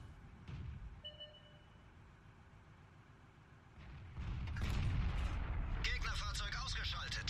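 Tank gun fire in World of Tanks, a deep booming shot followed by a sustained rumble and crackling battle noise, fairly quiet overall.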